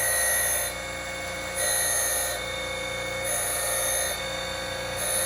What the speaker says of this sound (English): So I'm starting to grind the eccentric.